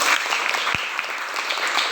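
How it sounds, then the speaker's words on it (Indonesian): Children clap together in a classroom or school gathering, a brief, busy patter of small hands with a couple of sharper thumps partway through. "Berikan tepuk tangan untuk Indi"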